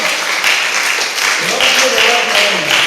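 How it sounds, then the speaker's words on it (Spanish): A church congregation gathered for a Christian trivia night gives loud, sustained clapping, a thick wash of hands close by, with a voice speaking and a few tonal sounds threading through the applause. "Fuerte los aplausos, por favor."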